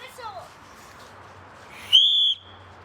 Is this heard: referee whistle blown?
yes